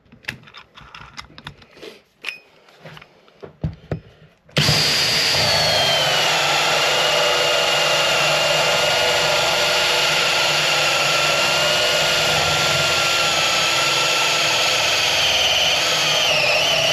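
Ferrex 44mm hole saw drilling into MDF: a few seconds of handling clicks and knocks, then a loud, sustained high-pitched whine of the drill and saw cutting steadily through the board until the end.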